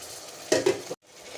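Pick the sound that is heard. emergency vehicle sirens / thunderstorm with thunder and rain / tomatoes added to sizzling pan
tomatoes added to sizzling pan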